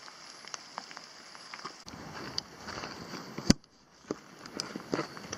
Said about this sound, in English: Still raining, a gray day.